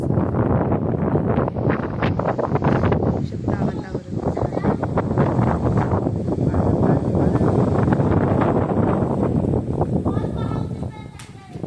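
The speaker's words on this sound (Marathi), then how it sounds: "इकडे वादळ आणि खूप वारा सुटलेला आणि पाऊस बघू शकता किती पडलेला आहे" Strong stormy wind buffets the microphone with a continuous roar while heavy rain pours outside, steady and loud throughout, with someone speaking briefly over it.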